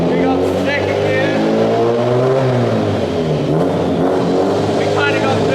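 A 400HP Nissan S13 drift car revs hard and pulls through its gears at a drift event, a loud, continuous engine roar with rising and falling pitch as it shifts, with voices over the noise.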